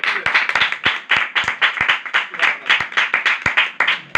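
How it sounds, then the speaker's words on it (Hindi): Enthusiastic audience applause at a religious gathering, dense rapid clapping from many hands, loud and close, continuing steadily throughout without talk. "मैं सलीम साहब के लिए एक बार जोरदार तालियां।"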